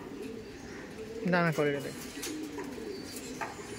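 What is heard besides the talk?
giribaj pigeons cooing at a pigeon market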